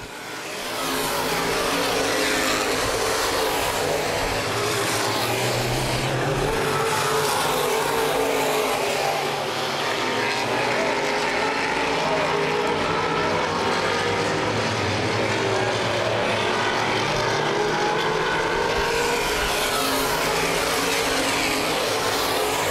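Open wheel modified race cars roar around a speedway in a pack, a loud continuous engine drone with shifting pitch as cars pass, steady throughout with no talk.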